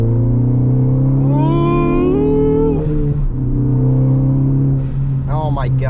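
A 2018 Ford Focus ST revs hard from inside the cabin, engine pitch climbing sharply through a gear before a shift, then building again, loud and close under brief speech.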